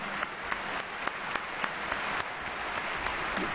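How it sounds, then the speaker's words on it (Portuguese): Audience applause at a televised sports award ceremony in São Paulo honoring a football club, a dense, even wash of many hands clapping at moderate distance with occasional sharper claps standing out, no talk over it. "Por favor, um aplauso ao São Paulo Futebol Clube na pessoa do Ataíde Gil Guerreiro."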